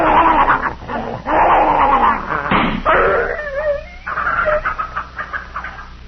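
In a radio drama, a dog snarls, growls and whimpers in pain as it tries to bite a man. The close, loud bursts of snarling give way to high whining whimpers.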